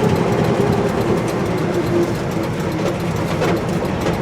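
An old Chevy truck with a three-on-the-tree column shifter rumbles after a downshift, its engine droning steadily and loud from inside the cab.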